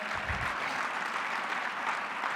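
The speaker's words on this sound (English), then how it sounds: "Worth an applause." An audience at a Chamber of Commerce Thanksgiving gathering breaks into applause, a steady wash of many hands clapping at moderate distance, even and unbroken throughout.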